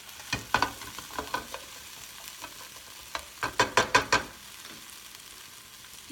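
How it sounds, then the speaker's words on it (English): Three potato items frying in a pan for pan-fried potatoes, heard as a run of crisp sizzles and scraping stirs in bursts, louder clusters near the middle, with no talking. "So I'm frying these 3 items"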